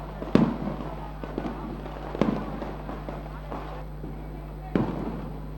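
Firecrackers set off at a crowded celebration for a TUDA chairman taking charge, with sharp loud bangs at irregular intervals over a steady hum and crowd noise.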